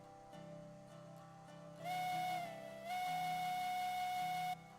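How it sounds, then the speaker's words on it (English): A video game train's whistle sounds a steady, clean tone in two long blasts over a low hum, synthetic and fairly faint. "That's a cute little whistle."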